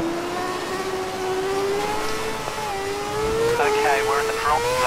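A Formula 1 car in F1 2011 lapping the Shanghai circuit, its high-revving engine whining steadily and rising in pitch through the gears, loud and close, with a brief shift near the end.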